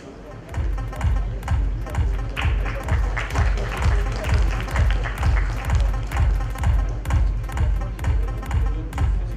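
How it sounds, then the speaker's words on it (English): Steady, rhythmic clapping from a conference audience, even beats repeating for several seconds, loud and close. "A big round of applause, ladies and gentlemen, for Mahesh."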